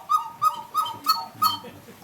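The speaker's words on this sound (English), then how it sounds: "In a small clock, you can hear the baby bird." A small cuckoo clock calls five times in a quick, even rhythm, each note a short bright two-tone chirp, close and clear.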